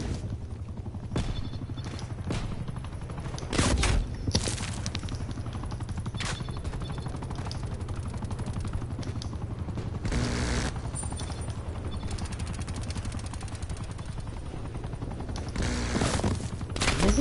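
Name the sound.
gunfire in video game Call of Duty Cold War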